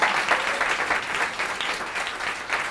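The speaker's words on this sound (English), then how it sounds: "Why don't we give Kathy another round of applause?" An audience at an award presentation gives a brief, steady round of applause, with many hands clapping densely and continuously at a moderate level.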